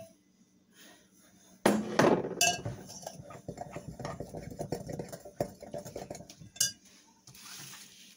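Utensil stirring sugar into bread batter in a bowl, with a sharp clatter at first, then a run of soft scraping and clinking strokes against the bowl.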